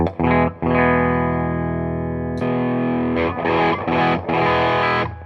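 An electric guitar with humbucker pickups played through an overdrive pedal of the Klon or Tube Screamer type, with sustained distorted chords followed by a few shorter choppy strums, loud and close.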